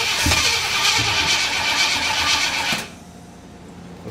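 A 1955 Chevy truck engine cranks and catches, roaring steadily with loud broadband noise for nearly three seconds before cutting off abruptly into quiet background.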